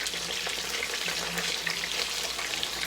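Cube steak frying in a pan with a steady, close sizzle and crackle while the meat is turned over, faint clatter underneath.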